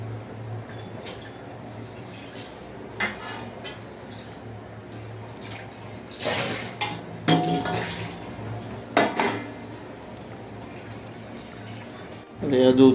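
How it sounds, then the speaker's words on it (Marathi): Boiled kadukanda (bitter yam) pieces are rinsed by hand in a pot of water. Scattered splashes, drips and clinks of the vessel come in short bursts between stretches of quiet, and a voice talks through it. "आपण पाण्यामध्ये धुवून काढूया त्याला."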